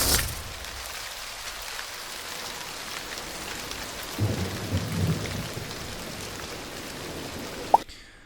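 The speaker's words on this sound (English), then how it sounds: "So this thunder sound I actually added in on top of the rain" Thunder layered over steady rain for an animated scene about buses, a low rumble rolling in midway beneath constant rainfall, with a sharp crack near the end.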